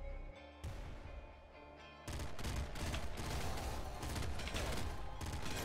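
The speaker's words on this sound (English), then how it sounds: "Plasma gun." A plasma gun fires in the video game Nuclear Throne, a sustained rapid barrage of crackling blasts and impacts that swells louder partway through and keeps going without a break.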